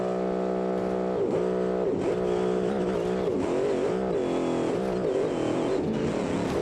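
A three-wheeler car in BeamNG launches with launch control and traction control on, its engine droning loudly with rising and falling harmonic revs and brief gear-change dips, steady and close throughout.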